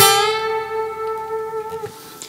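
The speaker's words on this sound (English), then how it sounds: "this is what is called the unison bend. And this sounds like this." A guitar unison bend on two adjacent strings, one note bent up to match the other, ringing as a sustained bright pair that settles into tune and fades, with a slight squeak near the end.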